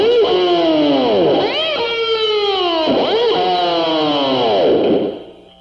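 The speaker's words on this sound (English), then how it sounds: "push down the vibrato bar simultaneously so you get from a high note to a low note real radically" Electric guitar played with the vibrato bar in repeated dive-bomb swoops, loud distorted notes plunging from high pitch to low several times in succession, then fading out at the end.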